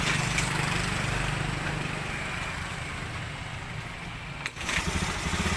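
A Honda Beat 110 scooter with a weak battery and an error 52 fault runs after being kick-started, its small engine chugging in a steady, close idle that briefly dips before picking back up.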